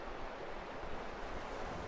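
Water pours out through a dam on the Caloosahatchee Canal in Florida, a soft, steady rush heard from some distance, constant and without voices.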